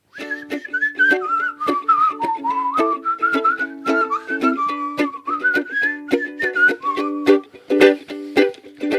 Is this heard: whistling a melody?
yes